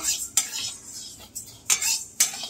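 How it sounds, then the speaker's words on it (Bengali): Dry moong dal stirred and scraped in a pan while frying, with a few sharp, gritty strokes of a utensil against metal at an uneven pace. "দেখো মুগ ডাল ভাজছি"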